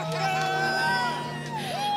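Race crew cheering and whooping after a driver takes the win at Road America, a close burst of overlapping shouts and excited voices that swell and fall over two seconds.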